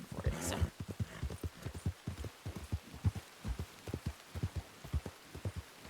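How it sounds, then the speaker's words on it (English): Horses in the Wild West game Red Dead Redemption 2 thud and roll on the ground. Rhythmic low hoof-like thumps and scuffs run steadily throughout, close and moderately loud, with a brief bright burst near the start. "Oh, the horses rolling."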